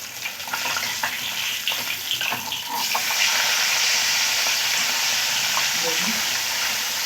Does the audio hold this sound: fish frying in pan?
yes